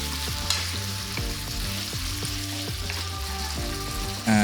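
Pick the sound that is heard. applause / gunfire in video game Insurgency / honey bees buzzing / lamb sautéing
lamb sautéing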